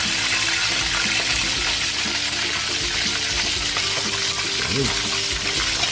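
Chicken fries in hot oil with a steady, dense sizzle that fills the whole stretch, with faint kitchen clatter and a brief stir near the end.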